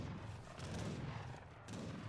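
Cannon volley in Age of Empires, a dense rumbling roll of overlapping artillery shots and booms from a massed group of cannons, sustained across the moment with a brief dip before more firing.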